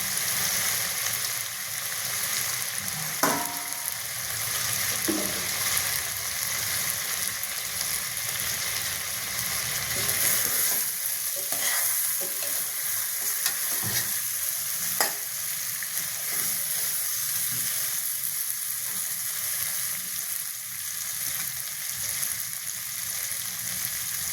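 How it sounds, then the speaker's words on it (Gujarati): Brinjal and potatoes frying in a pressure cooker, a steady close sizzle with occasional scraping stirs of a spoon against the metal. "રીંગણ અને બટાકાને હલાવી દઈશું અને 2-3 મિનિટ માટે આપણે આમાં સાકળશું."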